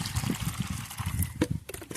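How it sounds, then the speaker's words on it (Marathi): Water is poured into a bottle, a close, moderately quiet trickling and gurgling stream with no voices over it. "बाकीचे पण बॉटले भरून घेऊया तरी आपण बॉटलेत पाणी हे करून घेऊया"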